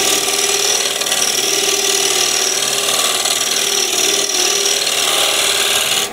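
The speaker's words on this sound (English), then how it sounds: "Now I can use the scraper." A scraper works steadily across a wide-rim cherry wood bowl, producing a continuous, loud, even rasping hiss with no pauses and no talking.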